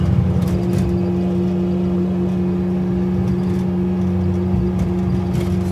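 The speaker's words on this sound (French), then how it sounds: "Ah, fait du bruit cette bagnole." A tuned rally car idles loudly at an autumn rally, its engine throwing a steady, droning hum with strong low harmonics, close by and continuous, with a few brief revs and clatters on top.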